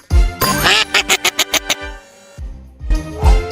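Duck quacking in a children's farm animal rescue cartoon: a burst of loud nasal quacks, then a quick run of six rhythmic quacks, a pause and two more quacks, near and clear.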